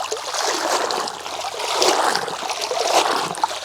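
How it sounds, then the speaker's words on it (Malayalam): Spinach and asparagus being rinsed in water, with a steady close trickle and splashing of water throughout and no talking. "ചീരയും ശതാവരിയാണ് കേട്ടോ നന്നായിട്ട് വെള്ളത്തിൽ നിന്ന് കഴുകിയെടുക്കേണ്ടത്."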